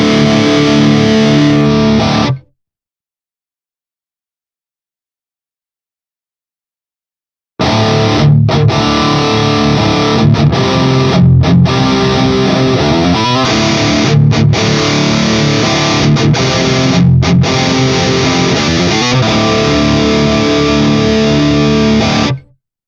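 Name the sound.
distorted guitar played through a 412 cab impulse response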